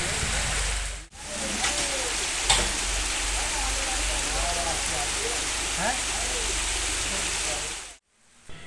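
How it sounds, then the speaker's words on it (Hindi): Torrential rain pours down hard and steady at a roadside rescue site, a dense, loud hiss filling the scene almost without pause, with a brief dropout and faint voices. "मूसलाधार बारिश लगी हुई है"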